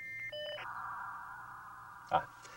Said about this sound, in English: I'll hear the phone's dial tone, then the sound of the two computers connecting